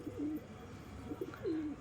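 Pigeons cooing close by in a loft setting, two soft rolling coos separated by a quiet stretch, with no talking.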